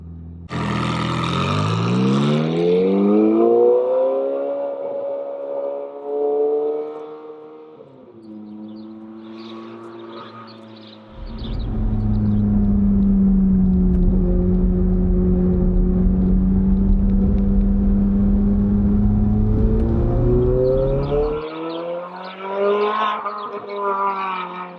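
Ferrari F430 Scuderia with a Capristo exhaust, heard close as it revs hard, drops to a rumbling idle, surges into a long loud drone while driving, then rises again.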